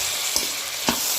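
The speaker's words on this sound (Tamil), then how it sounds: "எல்லாத்தையுமே சேர்த்து நல்லா வதக்கிக்கலாம்." Green chilies and tomatoes sauté with onions in a pan for puri masala, giving a steady, close sizzle broken by two quick scraping stirs of a spoon.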